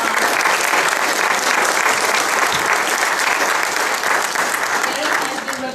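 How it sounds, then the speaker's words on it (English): Sustained audience applause at a fall 2014 mathematics graduation ceremony at NC State University, a dense, steady wash of clapping hands filling the whole stretch at close, full volume. "Give him a big round of applause."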